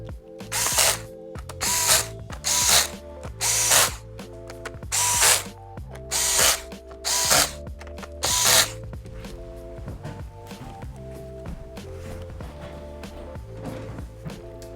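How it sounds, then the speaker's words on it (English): An electric screwdriver tightens the screws on the palm rest of a Lenovo 100E G3 Chromebook in about eight short, whirring bursts, close, followed by quieter clicking and handling. "And then tighten the screws."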